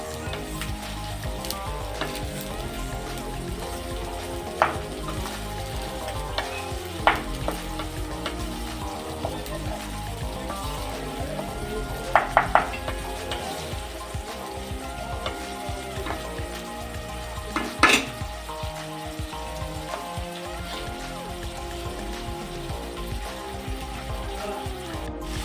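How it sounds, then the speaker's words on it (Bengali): Rui fish frying in hot oil gives a steady, dense sizzle with continuous crackling and a few sharper pops and spatters scattered throughout, close and fairly loud, with no talking. "ভাজা হয়ে গেছে, দেখুন তেল উড়ে যাচ্ছে, তেল ছেড়ে দিয়েছে, তার মানে ভাজা হয়ে গেছে পুরোপুরি"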